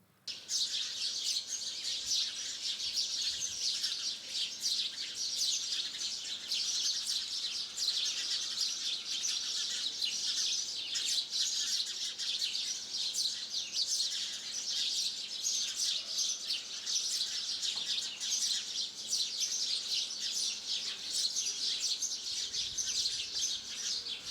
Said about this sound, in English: Fix the nest where the sparrows visit frequently